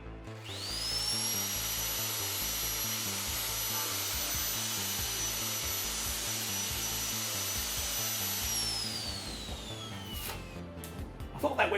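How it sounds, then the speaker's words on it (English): Bosch GRW12E power mixer hollowing out a pumpkin: a loud, steady whining motor with a rhythmic churning pulse throughout, winding down near the end followed by a few clattering knocks. "We're going to use the GRW12E power mixer."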